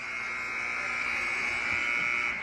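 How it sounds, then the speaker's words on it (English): A gym's final basketball buzzer at the end of a sectional championship game blares as one steady, loud, unbroken electronic tone for the full duration, with crowd noise beneath. "Buzzer sounds, and the Findlay Trojans win the sectional championship."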